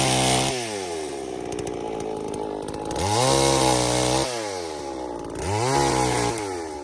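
NeoTech 872 chainsaw running close by, its engine idling then revving up in two strong surges and dropping back, a loud buzzing two-stroke snarl with no talking.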